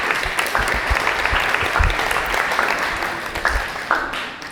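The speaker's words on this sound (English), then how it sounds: "Will you please give yourselves a round of applause for being here?" Wedding guests applauding during the toasts, a lively wash of many hands clapping with some louder close claps, steady then tapering toward the end.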